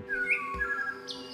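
Short, bright chirps from a small bird in the video game Terraria rise over steady in-game background sounds, fairly close and clear.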